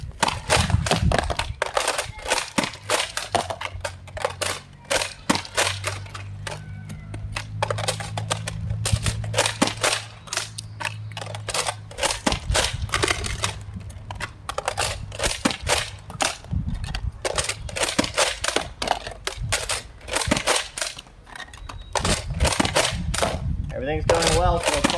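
Rapid, loud snapping shots from a Nerf Shell Shotgun blaster firing darts in a continuous barrage, close by, with clattering loading and pumping noises between shots.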